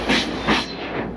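Rhythmic rumble of a train running along the tracks in the mountains near Ella, Sri Lanka, with periodic clacking swells over a steady mechanical hiss.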